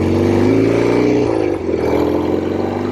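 A 1967 Norton P11 with its Atlas 750 twin idles loudly and steadily in first gear, a deep throbbing thrum that dips briefly midway before settling back to a strong, close rumble.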